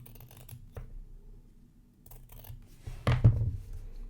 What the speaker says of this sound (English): I'm going to trim this a little bit.